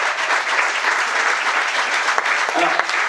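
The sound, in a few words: audience applause for performer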